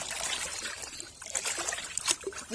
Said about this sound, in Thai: น้ำหมักจากเศษอาหาร ใส่เข้าไปอีก